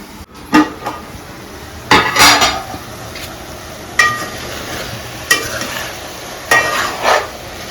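Ridge gourd and chana dal curry cooks in a pan, a soft bubbling simmer broken by several sharp clinks and scrapes of a utensil against the pan at irregular intervals.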